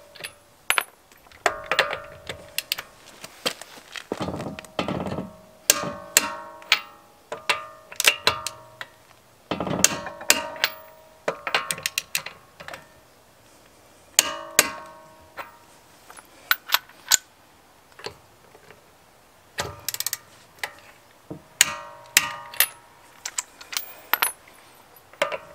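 A torque wrench set to 100 pounds tightens the lug nuts on a Dodge Dart's summer wheel, making sharp metallic clicks and ratcheting in irregular clusters separated by short pauses.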